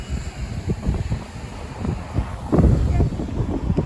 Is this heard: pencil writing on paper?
no